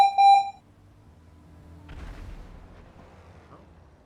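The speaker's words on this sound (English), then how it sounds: "What's that beeping noise?" Police panic button in the GTA roleplay game: a loud electronic beep burst with a sharp harmonic tone sounds at the start and quickly cuts off, followed by low rumbling game noise.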